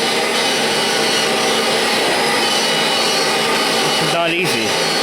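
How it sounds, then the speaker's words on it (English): Kirby Generation 5 upright vacuum cleaner running on pure suction with no beater bar, a steady loud motor whine with a brief pitch sweep near the end, with a person talking over it. "Now we're working off pure suction here."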